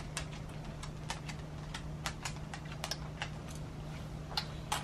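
A young child handles a set of keys, producing scattered light metallic clicks and jingles at an irregular rhythm over a low steady hum, fairly close and quiet.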